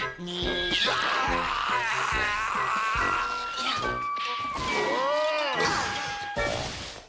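Cartoon crash and smash effects as a vehicle slams into a transporter in the animated Biker Mice From Mars, with clanging hits, whooshes and wobbling sound effects filling the whole stretch, loud and busy.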